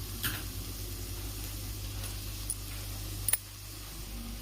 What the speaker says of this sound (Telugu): ఇందులోని మనం కొంచెం అల్లం వెల్లుల్లి పేస్ట్ వేసుకొని బాగా పచ్చివాసన పోయే వరకు వేయించుకోవాలి